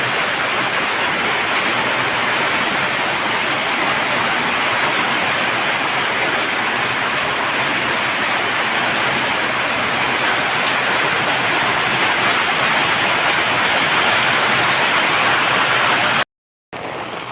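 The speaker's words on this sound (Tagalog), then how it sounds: "sobrang lakas ng ulan" Very heavy typhoon rain pours down in a dense, unbroken roar, loud and close, with a brief cut near the end and no voices.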